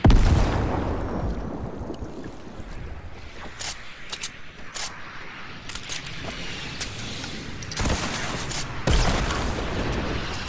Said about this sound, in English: Oh, here comes the rocket.